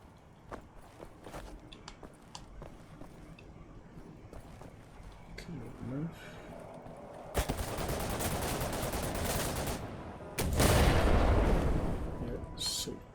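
Turrets fire in a video game, starting as scattered, soft pops under voices and swelling into two loud, sustained bursts of rapid gunfire near the end.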